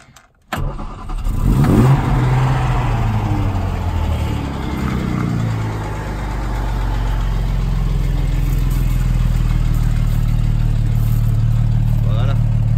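A 1960 Jaguar Mk 2 with its 3.8-litre engine cranks and fires up, revs climb and fall in a few loud bursts, then the engine settles into a steady, rumbling idle close by.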